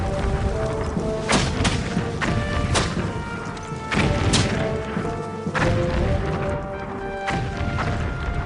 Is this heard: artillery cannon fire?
yes